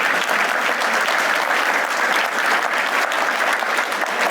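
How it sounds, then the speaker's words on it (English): A lecture audience breaks into dense, sustained applause: many hands clapping at once in a steady, full roar of claps close to the listener, with no talk over it. "that deserves a clap"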